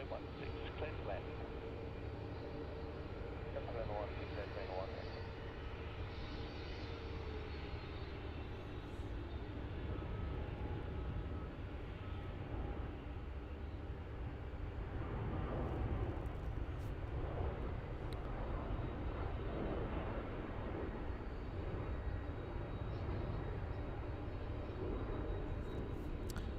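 A jet airplane departs Melbourne Airport with a long, steady roar that rises and swells, heard at a distance and fairly faint, with talk and radio chatter underneath.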